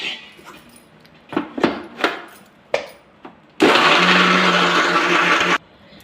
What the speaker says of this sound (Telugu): వాటర్ వేసి దీన్ని మిక్సీ చేసుకుందాం